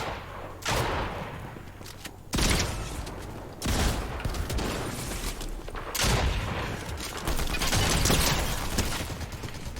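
Rapid video-game gunfire with heavy recoil rattles in loud bursts separated by brief gaps, dense and close, with mechanical clatter between volleys.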